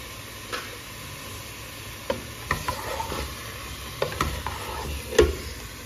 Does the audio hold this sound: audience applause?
no